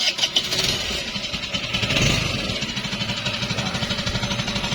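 A Choi motorcycle engine fires up by push-start with a weak battery and settles into a steady, close, fairly loud idle with a rapid uneven pulse.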